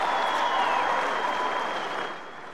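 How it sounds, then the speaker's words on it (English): A large crowd at Kenyatta University applauds the arrival of President Yoweri Museveni, a dense roaring wash of clapping that holds strong and then begins to taper off. "Let us give him a round of applause."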